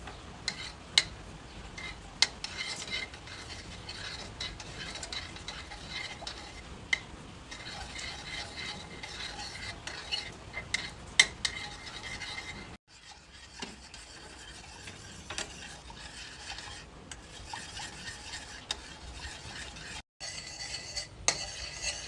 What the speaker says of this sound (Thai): เมื่อเราใส่ทุกอย่างลงไปเราก็คนให้ให้เขาละลายนะคะ คนให้ทุกอย่างละลายเข้ากันนะคะ